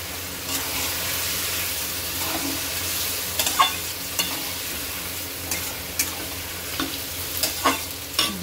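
Marinated mutton fries in a pan for Bengali-style mutton kosha, a steady close sizzle with periodic scrapes and knocks of a spoon stirring, moderately loud, no talking.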